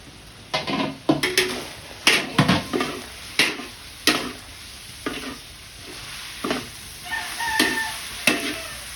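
Sauce being stirred in a pan, a spoon scraping in a run of distinct close strokes, each one a short clack against the metal with faint sizzling underneath.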